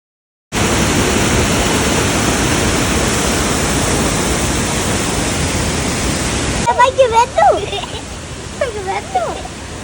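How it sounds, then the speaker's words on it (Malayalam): A roadside waterfall on the route to Munnar, Kerala, roars as a loud, steady rush of falling water. The roar drops lower near the end, and people talk over it. "നമ്മൾ പോകുന്ന വഴിയിൽ ഒരു വെള്ളച്ചാട്ടം കണ്ടിട്ട് നിർത്തി"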